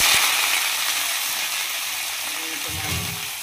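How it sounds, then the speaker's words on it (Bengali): Potatoes, onion and chilli fry in a pan with a steady, close sizzle and crackle that runs throughout with no pauses. "আলু ভাজছি।"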